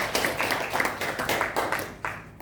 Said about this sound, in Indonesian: Beri tepuk tangan untuk Ray atas pendapatnya.